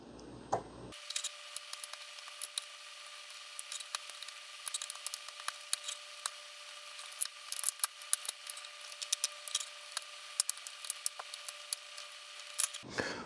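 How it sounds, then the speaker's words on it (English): A plastic spudger works along the seam of a Newton MessagePad 2000/2100 battery cover, giving a long run of small, close, irregular clicks and scrapes with a faint steady tone underneath and no talking. "after working the spudger here along this edge really carefully, this cover is starting to remove"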